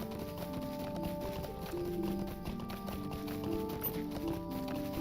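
A horse's hooves clip-clop steadily at a brisk, even pace while riding through Buckland in the Lord of the Rings Online video game, mixed with continuous tonal background music at moderate volume.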